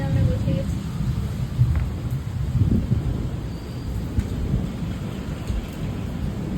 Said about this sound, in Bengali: ঝমঝমিয়ে বৃষ্টি হচ্ছে, তার সাথে মেঘ ডাকছে